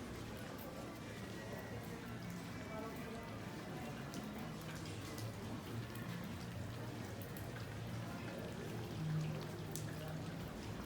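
Rain falls steadily in Athens, a soft, constant patter and wash of drops on surfaces, faint and even throughout, with a quiet voice murmuring under it.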